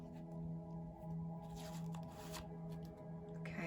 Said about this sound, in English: I'm just going to fan the cards out, and I'm going to see where I'm drawn.